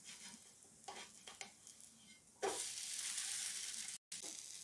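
A rice flour uttapam is turned on a hot pan after a couple of soft scrapes, followed by a loud, steady frying sizzle that cuts out briefly for a moment before resuming.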